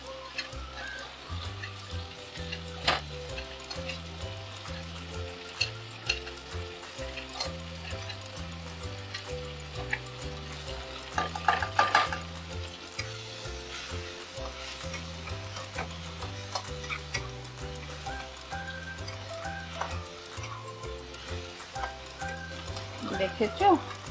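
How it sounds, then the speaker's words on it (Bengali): Chicken masala with gram flour (besan) fries in a pan for a Khandeshi chicken curry. A steady close sizzle runs throughout, with repeated scraping stir strokes over a low background hum and no talk. "একটু বেসন দিয়ে আবার এটা আমি ভাজবো"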